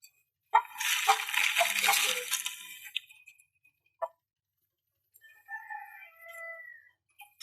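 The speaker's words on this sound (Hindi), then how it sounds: "ये है जी असील मुर्गा" An Aseel rooster crows once nearby, a loud drawn-out cock-a-doodle-doo, followed after a pause by fainter calls from other birds.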